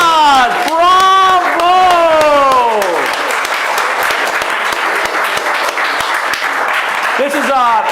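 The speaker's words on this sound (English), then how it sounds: "Let's give you a round of applause." Recital audience bursts into loud, sustained applause with some cheering for student performers standing up after a winter recital; a voice calls out over the dense clapping in the first few seconds, and the applause continues steadily to the end.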